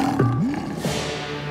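A cartoon lion gives a short roar made of two rising and falling growls, loud and close, inside a busy animated scene.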